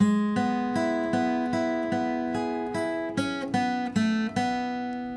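Guitar plucks a bright melody copying the harp part of a song, evenly spaced ringing notes, each sustaining into the next, played alone and close.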